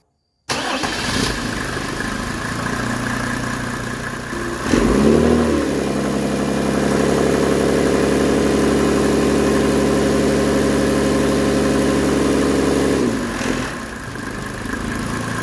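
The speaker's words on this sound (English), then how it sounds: "let me go ahead and fire up the engine" A 1995 Mercedes E300 diesel engine cranks and fires up, then settles into a steady, even idle that continues close by with no talking.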